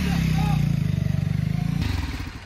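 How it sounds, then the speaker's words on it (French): A motorcycle ridden in a slow figure-eight during a stunt-riding course hums at low revs with a pulsing, throbbing engine note that wavers and drops near the end, close to the microphone. "J'appelle ça maniement classique moto en 8."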